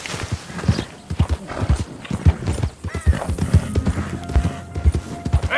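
Horse hooves clip-clop in Red Dead Redemption 2, a steady walking rhythm of loud, close hoof strikes, with a brief whinny-like sound partway through.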